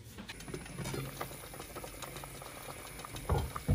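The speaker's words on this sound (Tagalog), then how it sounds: "Oras at kalahati na siyang kumukulo" Oxtail adobo soup simmering in a pot, a faint steady bubbling and light patter with soft clicks, quiet and continuous with a couple of slightly louder bursts near the end.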